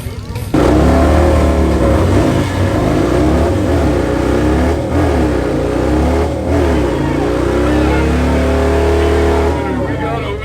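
A loud drag race car engine roars and revs hard, pitch climbing and dropping as it shifts through gears, continuous and close for about ten seconds.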